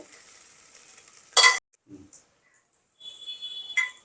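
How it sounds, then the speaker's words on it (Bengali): Onions frying in a pan for Punjabi-style mutton curry, a faint hiss that fades in and out, with one sharp scraping stir and a few quiet clinks between near-silent gaps. "পেঁয়াজটা আমি ভালো করে ভেজে নিয়েছি।"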